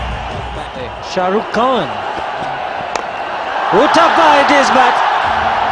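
A vocal crowd roars through a packed cricket stadium during an India versus Australia T20 World Cup semifinal, swelling louder in the second half beneath an excited commentator talking throughout.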